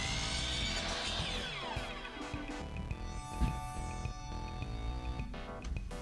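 A power saw cutting bottom pieces off a wooden coffin: a steady, fairly loud motor whine with shifting tones and a scraping cut running the whole time, no talk.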